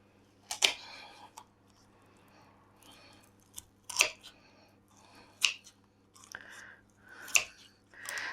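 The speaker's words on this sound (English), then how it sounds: "You literally cut your breastbone right down the side of it, and if you've got a pair of gardening shears, they work like a dream." Gardening shears crunching through a small chicken's breastbone, sharp snapping cuts spaced a second or two apart over faint crackling handling noise, close and fairly quiet.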